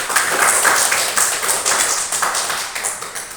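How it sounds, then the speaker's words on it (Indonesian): Classroom applause for a student: a dense, steady patter of many hands clapping together for several seconds, loud and close, with no talk over it. "Tepuk tangan untuk Dedi."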